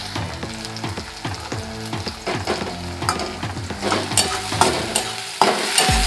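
Onions fry in a pan with a steady sizzle while a spatula scrapes and stirs in a rough, repeating rhythm, growing a little louder and brighter toward the end.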